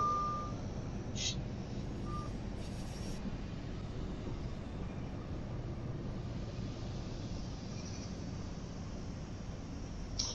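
In Train Sim World 3, a Class 700 train slowing down on the Manchester to Glossop line: a steady low rumble of rolling, with broadband noise throughout and a couple of brief high tones, continuous and fairly loud.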